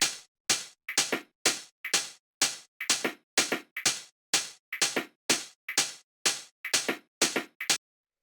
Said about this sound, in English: I'll play them with the hi-hat so you can hear how they